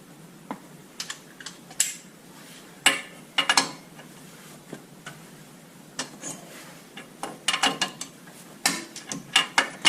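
Wrench working a crud-coated, WD-40-soaked tie rod nut on a 5th-generation Chevrolet Camaro during a coilover suspension install, giving a string of sharp ratcheting clicks and metallic knocks in irregular bursts, close and fairly loud, with no talking.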